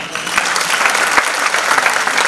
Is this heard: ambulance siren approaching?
no